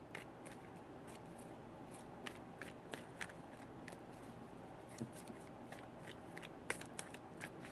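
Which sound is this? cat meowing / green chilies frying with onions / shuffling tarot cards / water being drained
shuffling tarot cards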